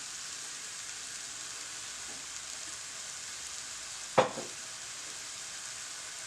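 Sliced mushrooms fry with a large spoonful of soy sauce in a pan, giving a soft, even sizzle throughout, broken by one sharp clatter about two thirds of the way in, with no talking.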